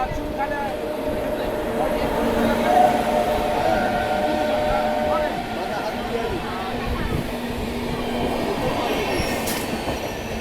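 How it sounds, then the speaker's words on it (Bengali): A passing train hauled by a WP7 locomotive on the Puri to Kamakhya express rolls by close and loud, with steady rumbling, squealing wheels and rhythmic clatter throughout. "ওদিক থেকে আরও একটা ট্রেন বলতে পারো পাসিং হচ্ছে তোমার WP7 ইঞ্জিন নিয়ে আসছে।"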